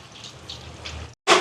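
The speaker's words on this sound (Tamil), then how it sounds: "தண்ணி சேர்க்குறேன் வட்டைக்காய் அவியறதுக்கு தேவையான அளவுக்கு." Water pours steadily into a cooking pot of broad beans with a low gurgling rush, then stops briefly before a louder, brighter splash of pouring resumes.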